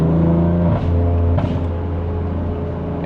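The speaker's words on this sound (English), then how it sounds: "my most favorite mod on this car has been the exhaust" A 2020 BMW M4 Competition with its S55 engine and modified exhaust rumbles loudly and close, the deep exhaust note dropping in pitch as the revs shift during driving.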